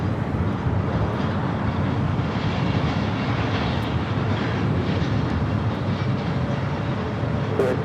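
Continuous broadband roar of a Delta Boeing 767 jet at LAX airport, a steady loud engine rush holding evenly throughout with no speech over it.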